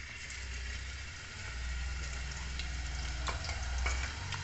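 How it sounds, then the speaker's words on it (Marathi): Ginger and garlic sizzle in hot oil for a tempering while mutton is being cooked, a steady close frying hiss with a low hum underneath and a few sharper crackles near the end. "आधी आपल्याला इकडं टाकायचे अद्रक लसूण."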